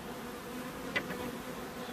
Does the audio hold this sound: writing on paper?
no